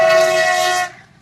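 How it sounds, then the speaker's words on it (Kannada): A train arriving at a station sounds a loud, sustained horn blast with a steady tonal chord, cutting off sharply near the end and leaving a faint low rumble behind. "ಗೈಸ್ ಫೈನಲಿ ಟ್ರೈನ್ ಸಿಕ್ಕಿದೆ"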